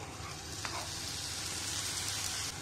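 Finely chopped tomato hits a frying pan that already holds green peas for a matar paneer pie filling, giving a steady, close, even sizzle that holds throughout without talk.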